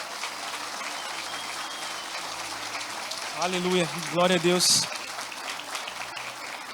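Church congregation applauding during a worship service, a brief burst of clapping blended with voices rising over a steady roomy background, while someone speaks over it.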